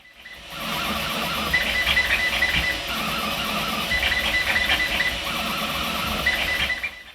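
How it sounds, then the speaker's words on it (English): Whirring, buzzing motor noise of a Two Trees SK1 3D printer at work, with chirpy stepping tones that rise and fall in repeating bursts, loud and close. "this printer is by far the noisiest printer I have ever had on my desk"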